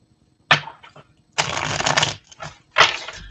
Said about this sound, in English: I just got to give them a little bit of a shuffle.